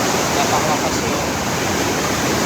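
Bristol Falls in Norway, a glacier-fed waterfall, roars as a dense, steady, loud rush of water that continues unbroken throughout.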